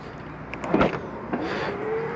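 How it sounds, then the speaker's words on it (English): An electric motor whirs as the power tailgate of a 2023 Tesla Model 3 swings down, with a couple of soft clunks and a rising mechanical hum as it closes. "Power closed tailgate."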